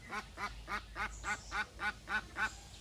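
Domestic ducks quacking on an Assam duck farm, a steady run of about nine loud, nasal quacks in even rhythm, close and clear with no talk.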